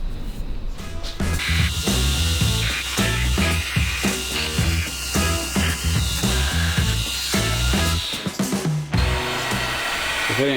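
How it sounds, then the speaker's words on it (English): Power sander working a Kydex knife sheath for a hunting knife, a loud continuous whir with shifting pitch and grinding bursts as the material is pressed and lifted, running steadily for the whole stretch with a brief drop near the end. "I'm gonna go to the sander."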